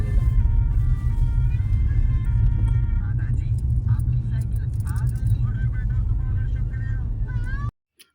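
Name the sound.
truck passing on a ghat road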